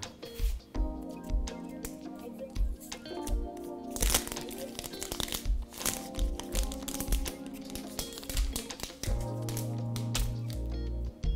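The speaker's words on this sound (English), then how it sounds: "let's get back to the unboxing and enjoy that ASMR" Packaging for a TECNO Camon 17 Pro smartphone is handled up close: crisp crinkles, taps and scrapes in quick irregular succession over soft background music, ending with a steady low hum.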